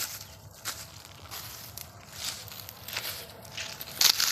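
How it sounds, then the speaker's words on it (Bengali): Footsteps crunching through dry fallen leaves on temple grounds at Gupta Kamakhya, soft irregular crackling steps at close range, fairly quiet throughout with a slightly louder rustle near the end. "এই দেখো পাতা শুকনো পাতার আওয়াজ দেখ মরমর মরমর"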